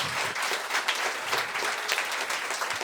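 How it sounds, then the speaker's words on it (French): Congregation applauding during a church service, a steady wash of many hands clapping, fairly close and sustained without a break. "On l'applaudit bien fort, d'accord?"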